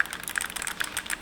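Buttons on an Audi's interior control panel being pressed, a quick run of light plastic clicks close by, one after another at an uneven tapping pace, fairly quiet.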